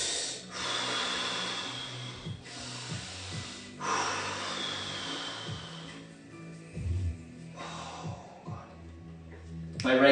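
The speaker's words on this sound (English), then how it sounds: "Take my deep breath." A person takes slow, deep breaths while pressing a lacrosse massage ball between chest and shoulder during upper-body mobility work, several long audible inhales and exhales, close and alone without talk.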